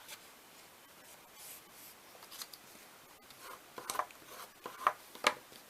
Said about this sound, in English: Oh yeah, you fold this part.